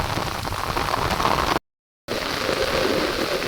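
Heavy rain pours down in a dense, steady roar, broken by one brief moment of silence before the downpour resumes just as loud.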